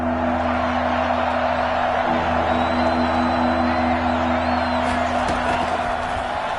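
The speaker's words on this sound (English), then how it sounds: "the crowd getting into it as we come up on a big third down" A stadium crowd roars steadily in a video game football broadcast ahead of a big third down, with a constant dense wash of noise and a faint whoop near the end.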